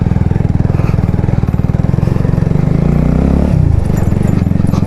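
A motorcycle fitted with a new exhaust idles and revs loudly up close, its engine pulsing in a steady rapid rhythm with a brief rise in pitch near the end, and no talking.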